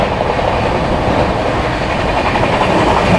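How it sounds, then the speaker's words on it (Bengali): A WAG-12 electric freight locomotive hauling a goods train rolls past at sunset, a loud, steady rumble of wheels and wagons with faint rhythmic clatter throughout. "মালগাড়ি টানার ইঞ্জিন।"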